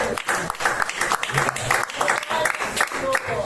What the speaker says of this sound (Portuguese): Palmas para o Senhor Jesus nessa noite.